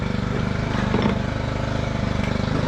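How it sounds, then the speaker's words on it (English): A Trimmer Plus string trimmer engine from Lowe's runs steadily nearby, a loud buzzing two-stroke drone with a fast, even pulse and no speech. "this is a Trimmer Plus from Lowe's."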